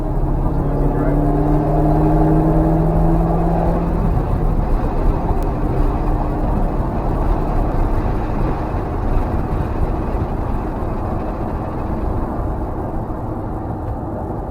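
A low, steady engine and titanium exhaust hum from inside a modded C5 Corvette Z06 cruising gently at 1600 RPM, broadband road rumble throughout with a smooth tone that fades after a few seconds.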